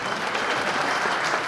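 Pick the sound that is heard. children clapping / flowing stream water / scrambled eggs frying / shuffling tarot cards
children clapping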